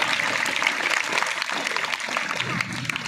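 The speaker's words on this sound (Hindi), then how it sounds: "तालियां बजा दें।" Audience applause at a comic stage drama, a dense burst of clapping with crowd murmur mixed in, fairly loud and continuous throughout.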